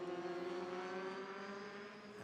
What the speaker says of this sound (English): listen to the sound of that Spice engine being unleashed on the Hockenheim circuit